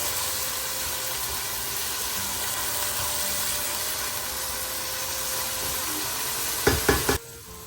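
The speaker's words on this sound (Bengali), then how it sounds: "পেঁয়াজগুলোকে ভালো করে গোল্ডেন ব্রাউন হওয়া পর্যন্ত ভালো করে ভেজে নেব।" Onions frying in a pan toward golden brown give a steady, close sizzle that holds evenly for several seconds before a few brief clatters and a sudden drop in level.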